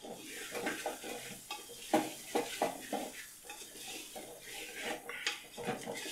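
Jackfruit biryani mixture being stirred gently in a pot, with soft repeated scrapes and clinks of a utensil over a faint sizzle, fairly quiet and close.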